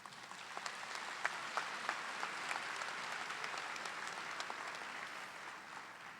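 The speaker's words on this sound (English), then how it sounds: "the applause may be because I'm getting ready to close" A crowd at a university commencement ceremony applauds in a sustained, even patter of many hands, heard from a moderate distance with a few sharper claps standing out.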